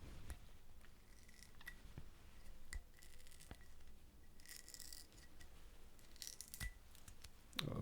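Plastic seal being peeled off a Maker's Mark bourbon bottle, quiet close crinkling and sticky tearing with scattered sharp clicks and small snaps, no talking.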